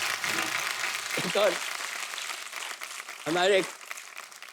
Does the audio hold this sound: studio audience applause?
yes